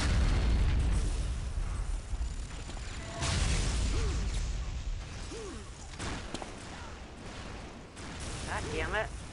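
Rocket launcher blasts in the video game Unreal Tournament: several booming explosions and bursts spread over a dense, loud mix of game noise, with voices in the background.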